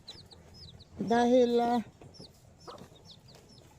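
A mother hen with her four chicks, with faint high chick peeps heard throughout and a louder close call from the hen in the middle; a person speaks briefly.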